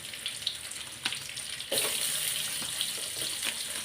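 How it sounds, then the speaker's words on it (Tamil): Onions and curry leaves hit hot oil in a pan, giving a soft, steady sizzle that jumps louder partway through, with a few light clinks, fairly quiet and without speech. "எண்ணெய் நல்லாவே சூடாயிடுச்சு. வெங்காயமும் கருவேப்பிலையும் போட்டுக்கிறேன்."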